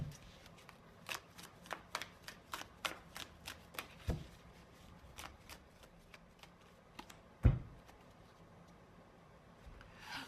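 Tarot cards being shuffled and drawn, a run of crisp, rapid card flicks and riffles with soft slaps as a card is pulled and set down, close up and quiet with no voices.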